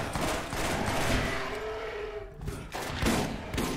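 Rapid gunfire in the video game Borderlands while shooting at a skag, a dense, continuous burst of shots with a few louder thumps, loud and close throughout.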